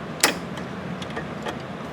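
A 10 mm wrench turns a bolt on a Jazzy Air power wheelchair, making a few sharp, separate metallic clicks that are close by, with the first the loudest.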